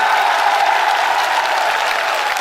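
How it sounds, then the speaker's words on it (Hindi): Dense, steady crowd applause at a political rally in Ladnun, with an even wash of clapping from a large audience that continues without a break. "ऐसे कमजोर तालियों से काम नहीं चलेगा, जाना चाहिए दिल्ली तक आपकी तालियां"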